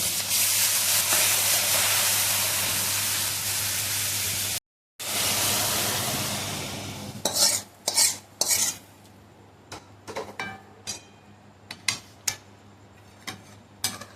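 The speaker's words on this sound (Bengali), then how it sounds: "ভালো করে মিশিয়ে নেব।" Chili powder and water being stirred into a tadka in a pan, a steady scraping swirl with a short break, then separate clinks and taps of a spoon against the vessel, close and fairly loud, with no talk.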